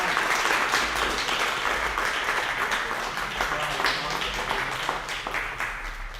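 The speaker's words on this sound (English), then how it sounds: "Give him a round of applause." Spectators at the US Snooker Masters 2025 final applaud champion Renat Denkha with sustained, dense clapping that holds steady for several seconds while voices are heard underneath.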